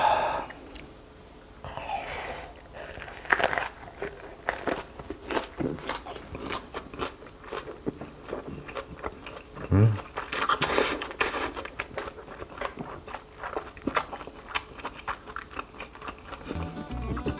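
Close-up eating of grilled beef intestines (gopchang) wrapped in onion at a Daegu-style gopchang spot, with irregular crunchy bites, wet chewing and crackling, loud snaps here and there over a quiet background.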